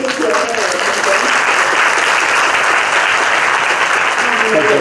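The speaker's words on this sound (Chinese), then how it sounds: "好，那我们是不是再次热烈掌声？" Lecture-hall audience at a university talk applauding warmly, dense steady clapping from many hands with a few voices mixed in, sustained throughout.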